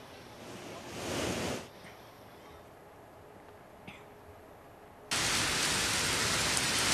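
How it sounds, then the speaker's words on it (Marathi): Heavy monsoon rain in Mumbai hisses as a dense, steady wash, swelling briefly, dropping to a quieter patter, then returning loud and constant without any voices. "मुंबईमध्ये आज खरं तर मुसळधार पावसाला सुरुवात झालेली आहे."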